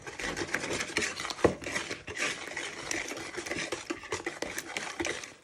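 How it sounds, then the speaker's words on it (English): Eggs and sugar beaten together by hand with a whisk for a carrot cake: a steady, close scraping and rasping of the whisk against the bowl, continuous and rhythmic with one sharper knock partway through, no talking. "with a whisk you want to start beating this together"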